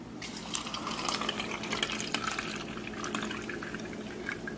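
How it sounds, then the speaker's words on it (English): Steady running alkaline water splashing and trickling over produce being washed under a tap, continuous and fairly close with no talking. "we're going to show you what comes off of your produce when you wash them off with the strong Kangen water"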